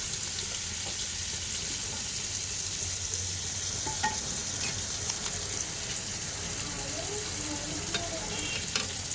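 Bitter melon frying in plenty of oil in a home kitchen, a continuous fine sizzle and crackle at close range with occasional soft clicks of stirring, no talking.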